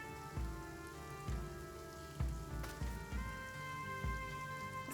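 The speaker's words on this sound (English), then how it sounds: "So it's raining." Rain falling in the video game Battle Brothers 2, a steady soft patter under a faint musical score, with low thudding hits recurring about once a second.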